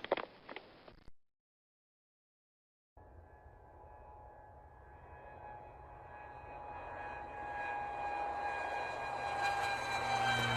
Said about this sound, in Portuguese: Quem disse avião acertou.